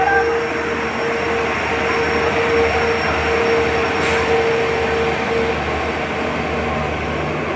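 Pamban Express train on the Chennai to Rameswaram line, heard as a loud, steady rolling rumble of wheels on rails with a high squeal running throughout, close and continuous with no talk.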